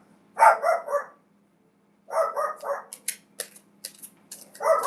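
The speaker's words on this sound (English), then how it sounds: "I don't know why he's barking on babies." A dog barks in quick clusters of three or four sharp barks, nearby and loud, with short pauses between bursts.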